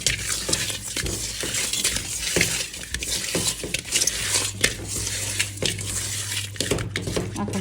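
Pieces of rui fish being mixed with turmeric, chili and salt, a busy run of wet rubbing and light clattering against a dish over a steady low hum, close and continuous.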